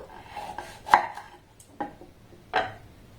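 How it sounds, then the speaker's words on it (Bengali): A knife cuts the ends off pointed gourd (potol) on a board, giving three or four sharp, close chopping taps spaced irregularly with quiet between them. "পটলে দুই প্রান্ত এইভাবে আমি কেটে নেবো"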